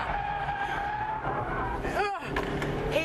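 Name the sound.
Mitsubishi Evolution VIII driving into a corner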